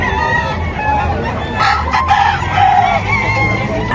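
Roosters crowing loudly and close by amid clucking fowl at a chicken market in Padre Garcia or Lipa City, Batangas, with a full crow and overlapping clucks against busy background noise.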